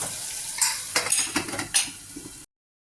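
Tomatoes in an uncovered pan, stirred a few times with a spoon, giving brief metal scrapes and clinks over a low sizzle before cutting off abruptly; no speech.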